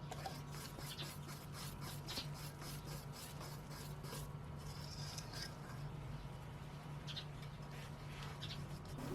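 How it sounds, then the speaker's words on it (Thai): Silicone spatula scraping banana cake batter around the sides of a mixing bowl, a steady soft rubbing and rasping that runs throughout at close range under a constant low hum. "เราก็ใช้พายซิลิโคนมาขูดตามขอบอ่างผสมอีกทีนึงค่ะ"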